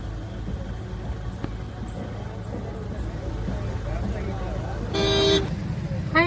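A car horn honks loudly for about half a second near the end, amid steady engine and road noise from a traffic jam on the drive to Tiruvannamalai for the Arunachala Mahadeepam.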